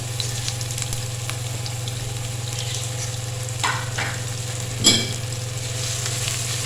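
Thin onion slices sizzle steadily in hot oil in a pan, a constant loud frying hiss with a couple of brief stirring scrapes partway through.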